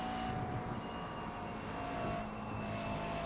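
A McLaren GT3 race car engine in a racing game hums steadily at moderate loudness throughout, a continuous drone with no talk over it.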